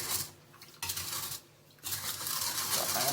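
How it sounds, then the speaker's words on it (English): A utensil stirs sugar into a small amount of water for cashew and flaxseed brittle, giving close clinks and sloshing scrapes in two bursts separated by a brief pause. "mixing out the sugar in the water as much as possible."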